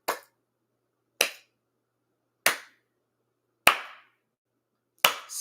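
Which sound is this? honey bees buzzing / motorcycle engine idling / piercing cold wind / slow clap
slow clap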